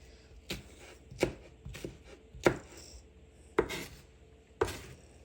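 A kitchen knife chops carrots into thin matchsticks on a board for a hot turkey salad: about six sharp, close knocks at uneven intervals, each with a short woody scrape. No one speaks.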